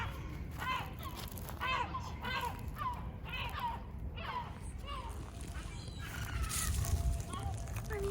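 Crows caw repeatedly in an Istanbul forest, with a series of harsh calls over a low outdoor rumble while a person talks nearby.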